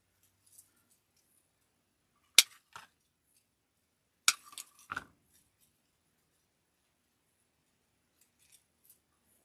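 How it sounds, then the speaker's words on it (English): Scissors snipping a floral stem into pieces while making a grapevine wreath, a few sharp, quiet cuts heard alone in near silence. "So I'm going to cut this up, and I'm going to cut it up into 3 pieces."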